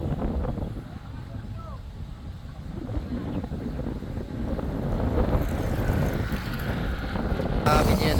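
Strong wind roars and buffets the microphone beside an open road bike criterium race in Ibaan, Batangas, a continuous rushing gust that swells louder toward the end.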